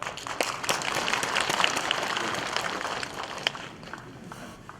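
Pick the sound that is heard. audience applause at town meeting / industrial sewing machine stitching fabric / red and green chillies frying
audience applause at town meeting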